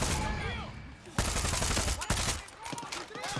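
Gunfire in the video game Far Cry 6: a loud, dense burst of rapid shots followed by more bursts and reverberant blasts, with a busy game soundscape underneath.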